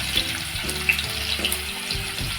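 Two large chopped onions dropped into hot oil with a pinch of asafoetida, crackling and hissing in a steady, close sizzle with small pops, for a Maharashtrian banana flower stir-fry.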